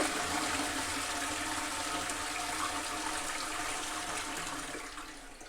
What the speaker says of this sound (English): Is that not the most intense flush you've ever seen?